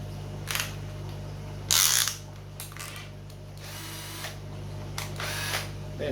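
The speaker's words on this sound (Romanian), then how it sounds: "Să dăm niște găuri." A small electric drill bores holes in short bursts with clicking and ratcheting mechanical sounds, close by and fairly quiet between bursts.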